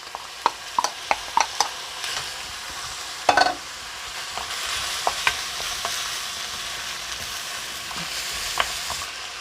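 Onion stir-frying in a pan as a topping for instant JJapaguri noodles, with a soft steady sizzle broken by scattered sharp clicks and scrapes of a utensil stirring, close and moderate in level, no talk.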